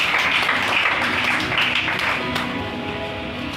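A church congregation applauds to acclaim Jesus, a dense, loud wash of clapping from many hands that fills the whole moment and eases slightly toward the end.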